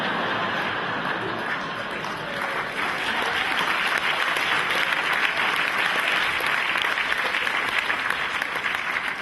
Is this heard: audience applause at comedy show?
yes